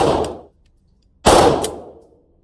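A Sig Sauer P320RX Compact pistol fires two loud, sharp shots about a second apart at an outdoor range, each with a short ringing decay and no voices.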